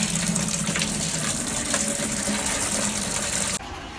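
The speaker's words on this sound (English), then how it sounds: "which means I have to go fill the water in my bathtub" Tap water gushes steadily into a bathtub in a mobile home, a loud continuous rushing flow that holds even for about three and a half seconds, then drops abruptly to a quieter trickle.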